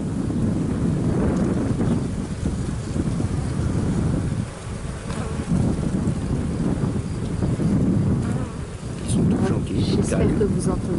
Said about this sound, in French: J'espère que vous entendez bien le bourdonnement.